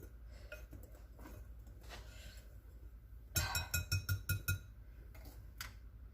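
Cake batter for a cocoa crumbed coffee cake is mixed in a bowl, heard as a quick run of about eight rhythmic clinks and scrapes from a utensil against the bowl in the middle, with quieter clatter before and after.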